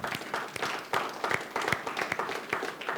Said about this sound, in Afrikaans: lekker hande klap